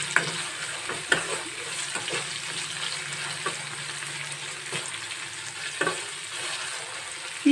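Chopped tomato frying in a pan for dal tadka makes a soft, continuous sizzle, broken by a few sharp stirring knocks and scrapes of a spoon against the pan, close up with no voices.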